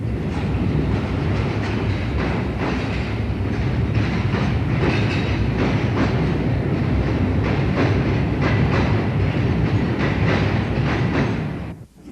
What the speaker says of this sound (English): Returning trains use the other platform and have to be signalled into the depot for reversing later.